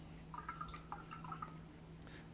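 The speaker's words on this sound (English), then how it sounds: "And a little bit of warm water here." Warm water poured into a bowl for sourdough bread dough, a faint trickling and dripping run lasting a little over a second, quiet and close with a low steady hum underneath.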